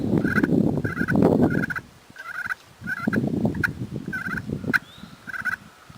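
A turkey call imitates a contented hen's purr, soft rolling trills repeating in short bursts over a rumbling, scraping background, close and fairly loud.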